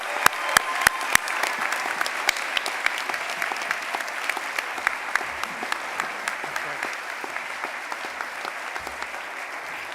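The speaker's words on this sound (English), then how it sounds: "let's give these recipients a warm round of applause" An audience at a spring commencement ceremony claps warmly, with a few sharp, distinct claps at first swelling into steady, dense applause that carries on throughout.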